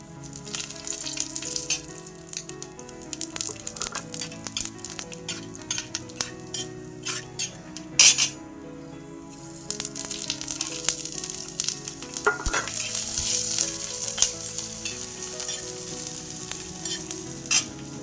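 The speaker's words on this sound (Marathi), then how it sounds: "तर आता आपण याच्यामध्ये तेल घालून घेऊया। याच्यामध्ये मसाला टाकून घेऊया।" Masala fries in hot oil for a dark fish curry and is stirred in the pan. A continuous sizzle runs under intermittent metallic scrapes and clinks of the spoon, with no one talking.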